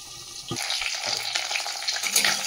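Fish frying in hot oil in a pan under a lid gives a steady broadband sizzle with crackling pops, loud and close, continuing without pause and with no talk.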